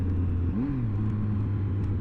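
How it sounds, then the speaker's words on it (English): A Triumph Speed Triple three-cylinder motorcycle engine with a stock exhaust runs at a steady, smooth low hum, briefly rising in pitch once before settling back, close by and alone. "This triple engine sounds so much nicer than the BM."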